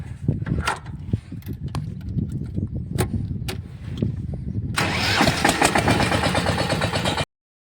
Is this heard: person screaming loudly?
no